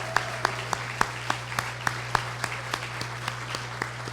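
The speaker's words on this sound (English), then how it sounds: "I want to give him one more round of applause." Sparse, evenly spaced claps ring out for General Austin at Operation Reveille 2015 in Tampa, Florida, about three or four per second, sounding thin and distinct over a constant low electrical hum.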